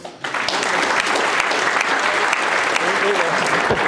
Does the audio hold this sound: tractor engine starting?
no